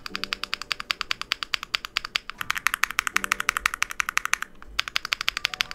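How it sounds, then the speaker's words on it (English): A heavy mechanical keyboard typed on in a fast, even rhythm, crisp close clacks repeating steadily with a short pause midway, no voices. "Here's a little sound test. These sound like, this is probably my best sounding keyboard."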